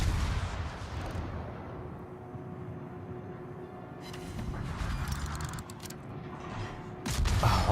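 Ship guns in World of Warships fire high explosive shells, a dense ongoing rumble of booming salvos with sharper blasts at the start and end, loud and without talk.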